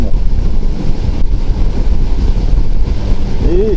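Riding an ordinary IZh motorcycle gives a steady low engine rumble under heavy, loud wind buffeting on the microphone, continuous and close.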